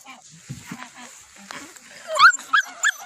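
Young puppies of Chow Chow, Rottweiler, Jack Russell and Kangal breeds give a few thin, close whimpers and high yips, the sharpest cries clustered near the end, mixed with people talking nearby.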